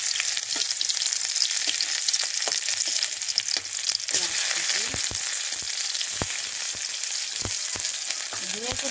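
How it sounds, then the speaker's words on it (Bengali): Chopped onion and garlic fry in mustard oil with dried red chillies, giving a steady close sizzle with intermittent scraping stir clicks and taps throughout. "পেঁয়াজ কুচি আর রসুন কুচি দিয়ে ভাজা হচ্ছে"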